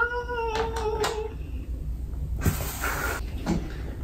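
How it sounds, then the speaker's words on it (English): A door opens indoors with a brief rattling, scraping burst, followed by a short clunk, while faint background noise and tonal sounds fill the room. "Oh, I opened the door."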